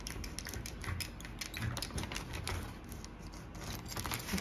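A tracing wheel rolls over paper during a dressmaking dart pattern tracing, making a rapid, steady stream of fine ticking clicks, close and fairly quiet.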